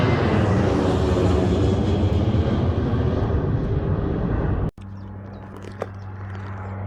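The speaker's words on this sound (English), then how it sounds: "Wow, and Boeing 737 to 800 KLM airline." A KLM Boeing 737-800 airliner roars loudly at Bergen Flesland airport in Norway, a sustained broadband jet engine rush that cuts off abruptly, leaving a quieter steady engine drone and faint ambient sounds.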